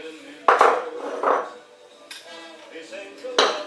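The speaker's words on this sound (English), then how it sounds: "we need to cream together the butter and the sugar" Butter and sugar are creamed together in a bowl for mince pies, a utensil knocking and scraping against the bowl in a few uneven, close strokes with faint background voice.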